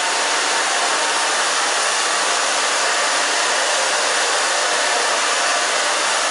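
A hair dryer blows steadily and loudly during a short-haircut styling session, a constant broad whooshing hiss of airflow with a motor whine, unbroken from start to finish.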